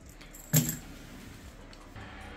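Two metal keys for a motorcycle top box jangle in a single brief clink, close and fairly loud against a quiet room background, then stillness.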